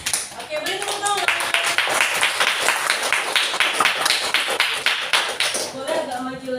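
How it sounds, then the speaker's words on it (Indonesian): Classroom clapping as pupils applaud a group about to present, a fairly close burst of many small hands with uneven rhythm, while children's voices chatter at the start and end. "Oke, beri tepuk tangan."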